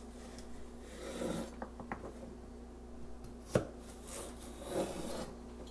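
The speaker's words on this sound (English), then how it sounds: "first, we're gonna cut up a little celery" A knife chops celery on a cutting board at home while cooking, giving a few scattered, soft taps and scrapes, with one sharper strike standing out, close up and fairly quiet against a low steady hum.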